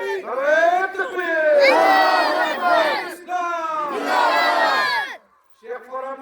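A large crowd at a religious gathering shouts a slogan back in unison, with several loud surging chants, a brief pause and then a new call starting.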